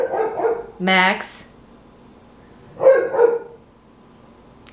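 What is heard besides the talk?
dog barking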